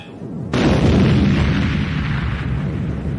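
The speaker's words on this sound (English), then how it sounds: "There came the roar of an explosion." A deep explosion roars on a lunar moonbase, a sudden broad blast that hits hard after a quiet half second and then rumbles on loudly and steadily without fading.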